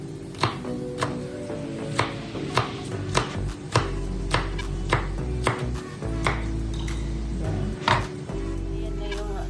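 A knife chopping chili peppers and onion on a board, sharp close taps at an uneven rhythm, about a dozen strikes, over a low steady background hum.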